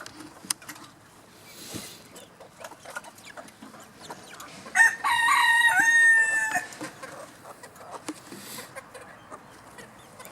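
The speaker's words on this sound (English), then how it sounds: "All the other ones are roosters. 5 roosters." Five young roosters and a pullet being introduced to an older flock cluck and rustle quietly, then one rooster lets out a loud, close crow lasting about two seconds before the soft clucking resumes.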